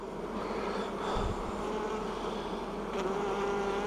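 A swarm of honeybees buzzes continuously nearby at a bee yard in the southeastern US, a dense droning hum with individual bees whining past.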